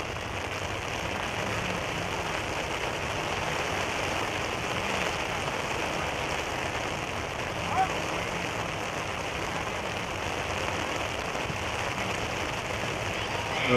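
Steady rain pours down over an outdoor soccer match, a dense, even hiss that continues throughout without letting up. A voice can be heard talking under it.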